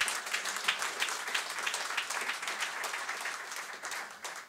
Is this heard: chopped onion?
no